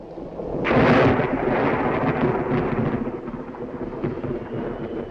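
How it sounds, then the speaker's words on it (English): Heavy thunder in a scene from a Sherlock Holmes feature film, rising at once into a loud, sustained rumble with rain, then slowly fading over several seconds. "Away from the thunder."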